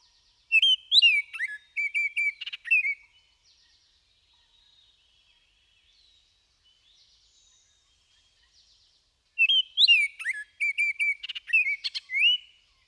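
Two bursts of bright, whistled Baltimore oriole song with rich warbling phrases, separated by a quiet pause, clear and close with no talking.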